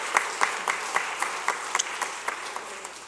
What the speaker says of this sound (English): let us please give Judge Doherty a big round of applause